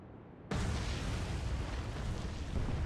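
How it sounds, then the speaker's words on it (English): A torpedo strikes a ship in the Atlantic Fleet naval video game, and a sudden loud explosion erupts into a sustained roaring, rumbling blast that continues for several seconds. "Good explosion on that one."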